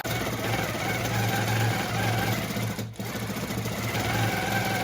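An embroidery sewing machine stitches out a Lone Star quilt design with a continuous fast mechanical hum and rapid needle rhythm, close and steady, with one brief dip.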